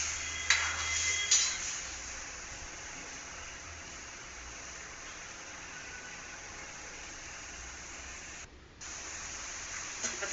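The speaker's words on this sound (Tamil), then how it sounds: "இப்போ தண்ணி கொதிக்க ஆரம்பிச்சுடுத்து." A pot of water with dissolved, strained jaggery starts to boil for pachai arisi kozhukattai dough, giving a steady close broadband hiss and bubbling with a few clinks at the start and a brief dip near the end.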